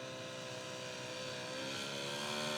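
A Top Flite Bonanza V35 RC model airplane flies a low pass with its gear down, its engine a steady, buzzing drone heard from a distance that grows slightly louder.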